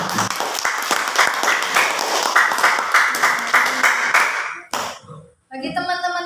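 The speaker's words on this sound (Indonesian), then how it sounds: "Kasih tepuk tangan dulu untuk kelompok 3" Classroom audience claps for a student group after their presentation on coconut-husk liquid organic fertilizer, a dense burst of many hands lasting about four seconds, then a sharp break and brief voices close by.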